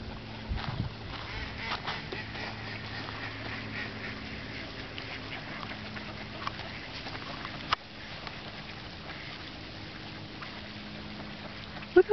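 Scattered duck quacks at a moderate distance over a steady outdoor hum beside frozen-over water, with a few sharper calls and a faint knock near the end.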